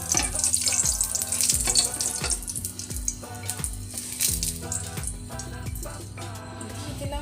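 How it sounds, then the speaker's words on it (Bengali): Bay leaves and dried red chilies fry in hot soybean oil in a pan, a soft crackling sizzle under steady background music. "এবার আমি তেজপাতা শুকনো লঙ্কা দিয়ে দিলাম"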